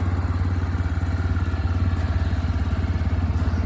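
A motorcycle engine idles steadily right after the key is turned on, a close, even, low throb that continues without any speech over it.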